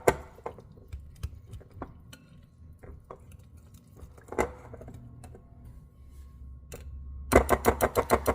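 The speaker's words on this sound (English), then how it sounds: "I'm just going to combine this really well and just give it a good mix" Jiffy cornbread casserole ingredients being mixed in a bowl: soft spoon taps and squishy stirring close by, ending with a quick run of louder rhythmic scrapes.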